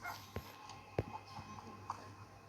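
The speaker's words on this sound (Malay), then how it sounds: "Ini kot anjing yang bising saya rasa." A dog yips and whimpers a few times at a distance, short sharp cries spaced out over a faint steady background hum.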